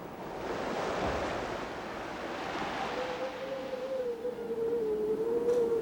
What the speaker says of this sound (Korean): 밤이 되면서 바람은 점점 거세진다.